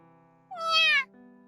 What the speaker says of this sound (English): we hear a tiny meow from inside